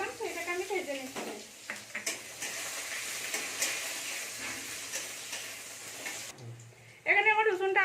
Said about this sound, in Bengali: আর এর মধ্যে আমি রসুনকে থেতো করে রেখেছি, 4-5 কোয়া রসুন থেতো করে রেখেছিলাম, সেটাকে আমি ভেজে নিচ্ছি।